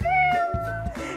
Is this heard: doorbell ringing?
no